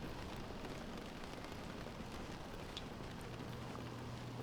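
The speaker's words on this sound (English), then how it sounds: "The rain is stopping." Steady rain in The Stanley Parable video game, a soft continuous hiss of falling water that holds at an even level throughout with no voices.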